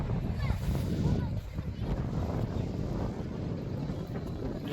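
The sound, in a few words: wind blowing on a boat trip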